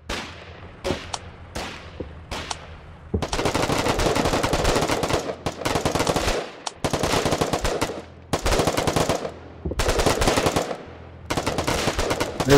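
Gunfire in the video game Foxhole: several sharp single shots at first, then long sustained bursts of automatic fire in repeated loud stretches with brief pauses between them.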